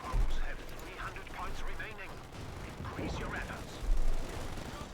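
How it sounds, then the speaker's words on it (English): Bren light machine gun fire in the World War II strategy game Company of Heroes 2, heard as dense bursts of gunfire mixed with other battle sounds under continuous commentary. "Got Bren guns on them."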